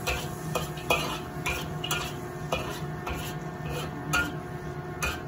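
A pan of eggplant adobo base with cooking wine and chicken powder is stirred, giving a rhythmic run of spoon scrapes and clinks over a light sizzle, close and continuous.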